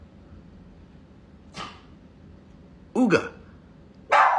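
A German shepherd dog gives a few sharp, loud barks close by, one short yelp followed by two louder bursts spaced about a second apart, after a person speaks a word.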